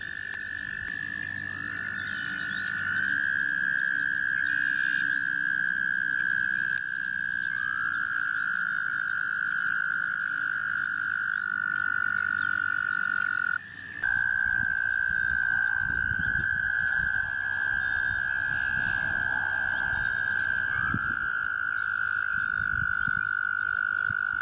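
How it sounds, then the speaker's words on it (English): A toad's long, high trilling call rings out loud and close, holding steady for many seconds with brief pauses, over faint background hum. "The song of the toad travels far and can be heard day and night"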